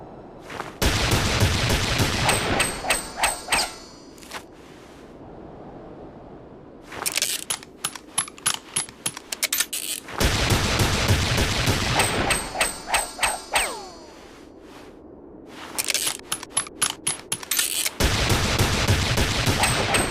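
Cartoon gunfire from a French animated duel, with bursts of rapid shots alternating with stretches of single cracks and brief pauses, loud and close, repeating across the whole span.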